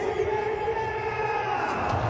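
A large crowd of cricket fans lingers in a stadium after India's ICC Champions Trophy win, their steady, distant roar of cheering and chatter filling the air continuously.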